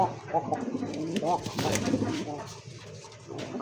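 A jet-black Bombay pigeon gives repeated throaty coos close by, with a few rolling phrases. Someone speaks over and between the calls.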